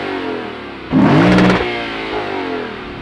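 Exhaust of a 2022 Lexus IS 500 V8 heard from outside, a short, sharp rev that jumps in loudness and pitch for about half a second before settling back to a steady idle rumble.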